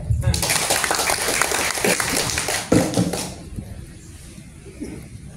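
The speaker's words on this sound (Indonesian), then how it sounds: "tepuk tangan ya" Applause from an audience at an organization's inauguration ceremony in Indonesia, a dense burst of clapping for about three seconds that cuts off abruptly, leaving quieter room noise.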